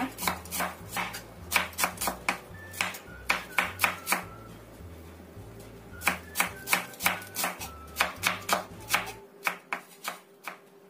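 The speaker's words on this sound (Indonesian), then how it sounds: "Kemudian 2 butir bawang merah kita iris halus saja." A knife finely slices shallots on a cutting board in rapid bursts of crisp, evenly spaced chops, close and clear, pausing briefly between runs.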